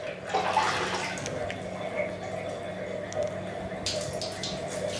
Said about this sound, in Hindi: अब हमें ठंडा पानी डालना है।